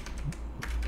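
Quick keystrokes on a computer keyboard as a command is entered at a prompt, a short run of light taps in two clusters, close and fairly faint, with no talking.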